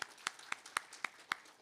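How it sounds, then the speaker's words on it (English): Audience clapping at a campus Comm Week event, heard as a faint, evenly spaced series of about six distinct claps with a quiet wash of other hands between them. "can we just clap it up for Comm Week in general?"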